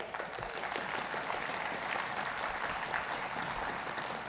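Audience applause at a national congress speech by a union president, a steady wash of clapping from a large crowd held at an even level for several seconds, no speech over it.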